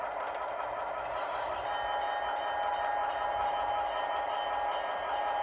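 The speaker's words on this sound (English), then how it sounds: "So let's activate the bell." Model train locomotive bell sounded from a ProtoThrottle, ringing as a steady, continuous repeating clang at moderate loudness throughout, alone without talk.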